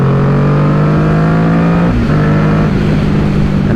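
Kawasaki Ninja 650 motorcycle engine held at about 5,000 RPM while riding in fourth gear at around 45 mph, giving a loud, steady buzzing drone that dips briefly midway.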